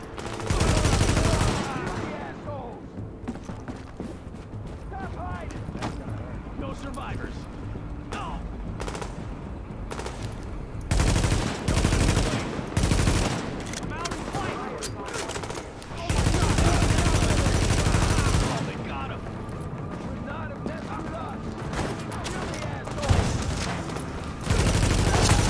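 Rifle fire in The Division comes in repeated bursts of rapid shots between quieter pauses, loud and close over ongoing game ambience, with someone talking at times.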